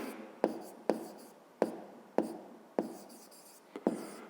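A pen or pencil writes a math solution by hand on paper, close and quiet scratching strokes broken by about seven sharp taps as the tip lands, with brief pauses between marks.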